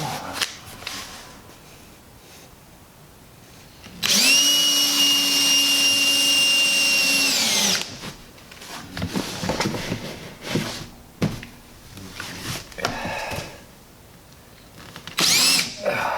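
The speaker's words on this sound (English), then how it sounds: "Let's drill some holes." A power drill with a fine bit whines steadily for about four seconds, loud and close, drilling holes in a Miata panel, followed by clattering handling noises and a second brief burst near the end.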